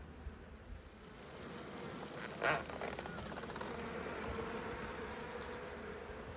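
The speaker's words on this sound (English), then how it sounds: "There you go, the bees come out here now, see?" Honey bees pour out of a hive entrance in a British apiary, a soft continuous buzzing swarm close to the microphone with a brief louder whoosh partway through, steady and faint overall.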